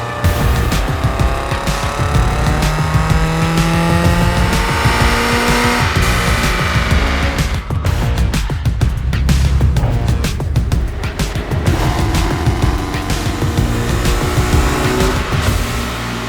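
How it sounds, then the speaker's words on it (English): A race car engine at full throttle on a dyno, loud and close, with a sustained roar of rising and falling harmonic sweeps running without pause and no voices. "We're about to go full send on the dyno."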